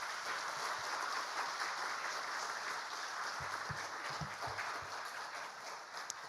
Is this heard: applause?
yes